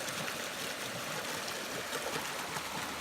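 A small cascade of stream water pours over rocks on the Appalachian Trail, a constant close, broad rushing wash with no talk.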